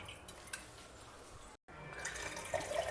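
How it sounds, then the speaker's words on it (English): Tamarind extract strained and poured while making jeera rasam in a home kitchen, a steady close liquid trickle and splash running for a few seconds with a brief break midway, no talking. "Filter out the tamarind extract."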